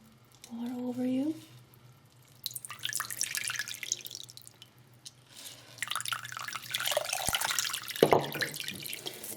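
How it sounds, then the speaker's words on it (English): Water poured over a hedgehog during a bath, heard as intermittent splashing and trickling in bursts, with a voice talking in between and a brief higher squeak or whine early on. "Pour the rest of the water over you."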